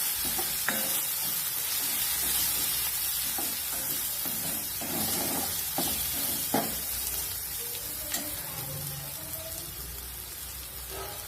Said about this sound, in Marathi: ह्याच्यामध्ये आपल्याला छान तेलामध्ये परतून घ्यायचे